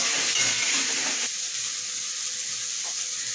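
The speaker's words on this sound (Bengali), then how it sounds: "মশলাটা আমার ভাজা হয়ে গেছে" Spice masala sizzling and frying in a pan for a Bengali potato and pointed gourd dish, a steady close hiss with a brief louder burst early on before settling into a quieter continuous sizzle.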